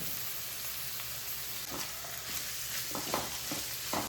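Onions frying in oil with curry leaves for gendadadde, a steady broadband sizzle with a few brief stirring scrapes near the end, close and continuous without talk.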